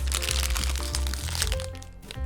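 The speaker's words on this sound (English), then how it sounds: "Let me just shove this bag in my mouth." Loud, close crinkling and crackling of a plastic bag held in a person's mouth, continuous and busy, with muffled mouth sounds mixed in.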